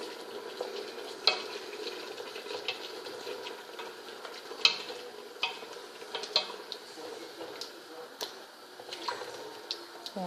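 Lamb and zucchini tajine stirred in a pot over high heat after boiling water is added, with a steady soft bubbling sizzle and scattered sharp utensil scrapes and taps against the pot.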